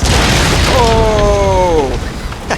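A ship's powder magazine blows up during a naval battle in Empire: Total War, a loud, sustained roaring blast that fills the whole stretch, with a voice crying out briefly over it.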